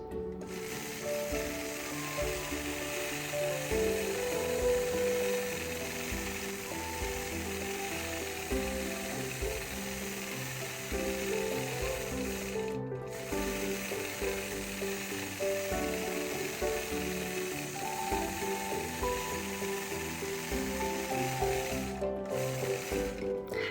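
A quilting machine stitches a butterfly quilt block in a continuous rapid mechanical chatter, with a steady rhythmic texture and two brief pauses in the stitching.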